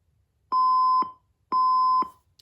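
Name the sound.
alarm clock buzzer beeping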